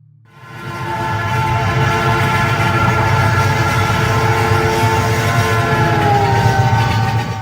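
Steady, loud rumble of a train in motion with sustained horn-like tones above it, used as an effect in a Bengali audio drama as characters set off on a morning train; it starts within the first second and runs throughout with no talking.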